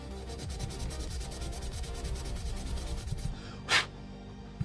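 An airsoft part is rubbed with an abrasive pad, giving a fast, rhythmic close scrubbing rasp for about three seconds, followed by a short sharp scrape and a faint knock.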